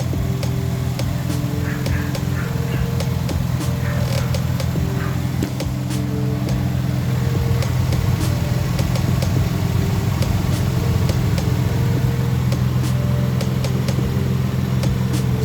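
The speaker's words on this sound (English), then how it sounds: "Our AC compressor is engaging." A Nissan Pathfinder (R50, 2001–2004) idling with the A/C compressor engaged, a steady low engine hum with an even mechanical drone and light ticking, close and continuous, no talk.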